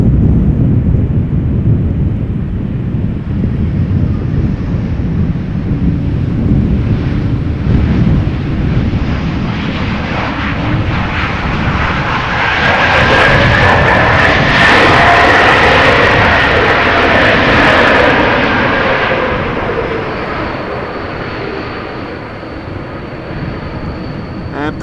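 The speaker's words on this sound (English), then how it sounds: "A220-300 is what they are called today, returning from Zurich, or I should say visiting from Zurich" An Airbus A220-300 airliner arriving from Zurich at Amsterdam Schiphol during a storm gives a sustained loud roar that swells and fades, mixed with heavy buffeting wind noise throughout.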